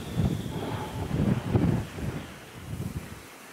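Steady wind buffets an exposed microphone on the shore at Totland on the Isle of Wight during a sea fishing session, a continuous low rumbling roar with gusty surges and no talk.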